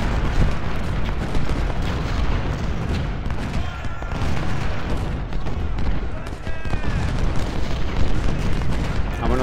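Sustained battle noise from the Battle of Cold Harbor in Ultimate General: Civil War, where booming cannon fire and crackling musket volleys overlap continuously, loud and dense, with repeated bursts rising out of a steady roar.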